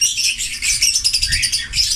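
Pet birds chirp busily while being bathed, a dense run of high, rapid tweets and calls close by, with faint water and handling noise beneath.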